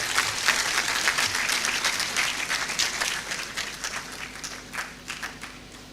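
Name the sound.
audience applause after a speech at a congregation ceremony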